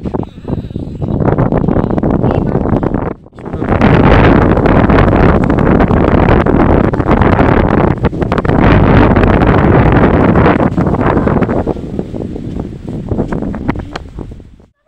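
Strong wind in a village garden blasts loudly against the microphone as a dense, continuous roar that breaks off briefly once and fades toward the end.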